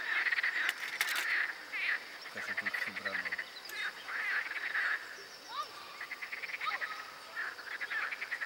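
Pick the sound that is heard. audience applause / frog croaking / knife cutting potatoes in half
frog croaking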